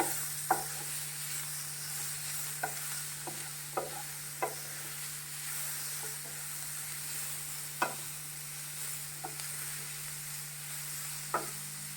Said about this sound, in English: Now onion is ready, you need to add green chili and tomato. Let it saute for a while.